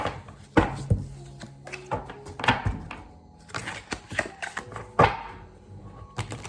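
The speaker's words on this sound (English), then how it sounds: "we're gonna go with 4 shuffles" Tarot cards being shuffled by hand during a love reading, a series of sharp riffling slaps and soft thumps spaced irregularly, close and fairly crisp with no talking over them.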